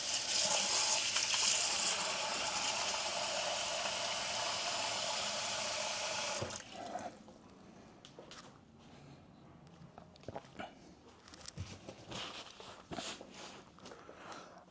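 Water poured for floating papaya seeds, a steady loud rushing gush for about six seconds that stops abruptly, followed by quieter scattered handling noises and small clinks.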